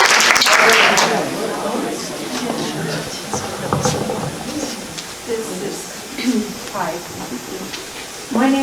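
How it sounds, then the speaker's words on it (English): An audience at a historical society quilt program gives a round of applause, a burst of clapping at the start that thins into scattered claps, with voices chattering throughout. "we'll catch up on a round of applause here"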